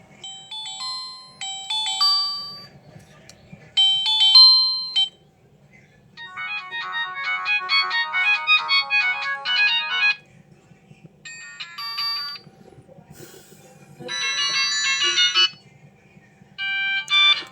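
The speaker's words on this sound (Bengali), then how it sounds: "আমি এই ফোনটির যে রিংটোনের সাউন্ড, সেটা একটু বরাবর মতো শোনাতে চাচ্ছি" A Symphony S72 mobile phone plays its ringtone aloud: several bright electronic melodic phrases in separate bursts, with short silent gaps between them and no talking.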